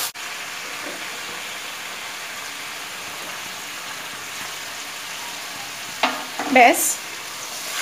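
Spice paste for pomfret curry sizzling and frying in oil in a pan while being stirred, a continuous close crackle with a few louder clatters of the spoon near the end and a brief spoken word.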